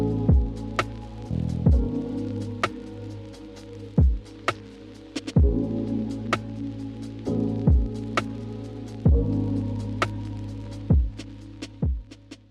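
A Silhouette cutting machine cuts paper bunting shapes, giving a steady motor hum broken by regular, close, thudding pulses as the carriage shifts, with no one talking.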